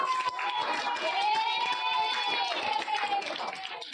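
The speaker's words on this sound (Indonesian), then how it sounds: "Tepuk tangan teman-teman." A class of schoolchildren claps hands in a steady patter, with lively children's voices and crowd noise mixed in throughout.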